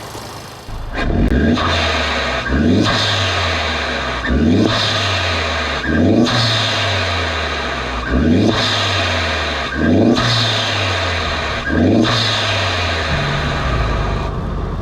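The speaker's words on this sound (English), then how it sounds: "I'll actually put a little snippet of it revving up on idle from here" A Honda Civic Type R FK2 engine with an Eventuri intake revs repeatedly in a steady rhythm, about every two seconds, each rev rising in pitch then falling back to idle, loud and close.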